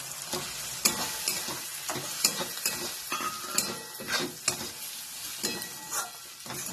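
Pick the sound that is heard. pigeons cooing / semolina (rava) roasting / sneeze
semolina (rava) roasting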